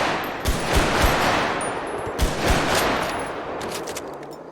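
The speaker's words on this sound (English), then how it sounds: "Go SNS pistol. This is a common one on the drilling servers." SNS pistol shots in GTA V on a FiveM server, about ten punchy close reports fired in two quick bursts with a short pause between them, loud and clear with no voices.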